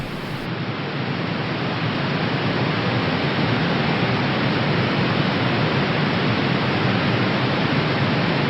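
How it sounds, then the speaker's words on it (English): Steady, loud hiss of broadband white noise, unchanging and uninterrupted for the whole stretch. "That white noise right there is haunting."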